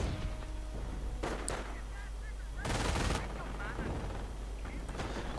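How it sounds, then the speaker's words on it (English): Heavy machine gun fire in a real-time strategy war game, with a dense burst of rapid shots around the middle standing out over a continuous battle din of scattered gunfire and effects. "the heavy machine gun setting up"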